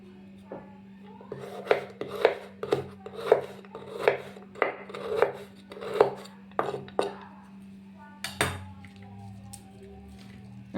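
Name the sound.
chopping dried coconut into small pieces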